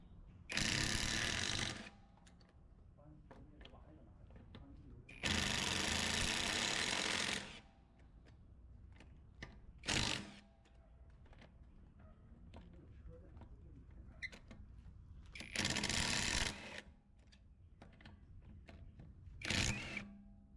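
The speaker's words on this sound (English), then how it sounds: "It takes a bit longer for the Bauer impact driver to take off these lug nuts." A Bauer 20V cordless brushless impact driver removes car lug nuts in several loud, sustained hammering bursts of a few seconds each, separated by quieter gaps filled with shop noise and some talk.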